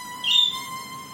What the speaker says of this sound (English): These goddamn birds, man.